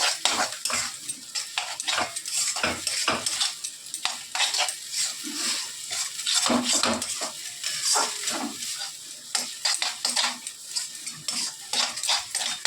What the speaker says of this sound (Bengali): কষিয়ে নিচ্ছি, এরকমই কষিয়ে নেবো